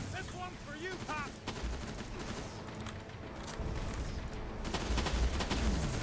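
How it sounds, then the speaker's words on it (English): Rapid gunfire from the video game Terminator Resistance crackles in dense bursts against a busy game soundscape, with a voice briefly talking over it. "I can't even see where I'm shooting anymore."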